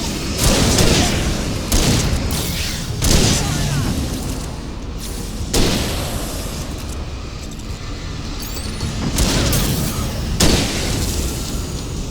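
Heavy gunfire and booming blasts in the video game Alan Wake, loud repeated bursts rolling through a continuous rumble, with several sharp peaks standing out across the stretch.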